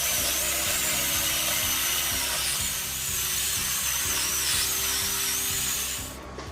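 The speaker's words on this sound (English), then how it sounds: "we're going to go ahead with the bone saw and we're going to cut her in half." A powered bone saw runs continuously at a steady high whine while cutting a deer carcass in half for venison, close and loud, easing off just before the end.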